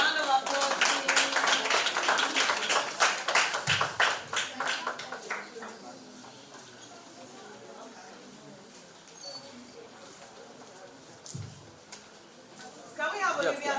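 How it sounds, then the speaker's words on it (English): A crowd of residents at a children's and teens' tech day event breaks into a round of brisk clapping that fades after about four seconds, leaving quiet room murmur, with people speaking throughout. "Round of applause, please."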